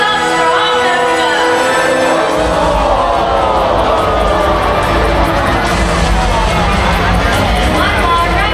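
An audience at a bird show in a bird park claps, cheers and whoops loudly in a steady, dense roar of applause mixed with crowd babble, rising after a short burst of tonal sound at the start.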